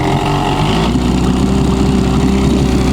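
A cold outboard boat motor on winter ice-fishing gear starts and settles into a loud, steady, close idle with an even rumble and no talking.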